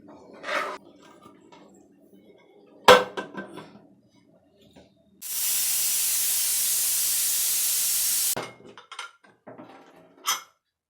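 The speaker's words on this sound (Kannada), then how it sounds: "ನೋಡಿ ಇವಾಗ ಕುದೀತಾ ಇದೆ ಇವಾಗ ನಾನು ಮುಚ್ಚಳ ಹಾಕ್ತೀನಿ" A boiling pot with rice for avarekalu menthya bath gives sharp metallic clinks as its lid goes on, then a loud, steady steam hiss for about three seconds, followed by more scattered clatter. No one speaks.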